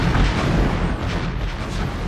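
Cartoon explosions boom continuously as Black Arachnia barrages the landscape from a flying island in Beast Wars, a dense, loud, rumbling roar that fills the short stretch without pause.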